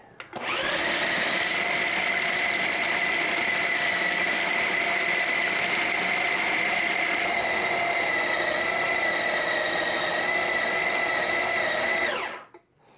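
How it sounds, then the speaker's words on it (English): A Ninja 1000-watt food processor running on high while mixing protein-bar dough gives a loud, steady motor whir with a strong tonal hum that shifts partway through as the dough comes together, then cuts off sharply at the end. "we're just gonna press high, and we're gonna let it mix until it forms a nice dough"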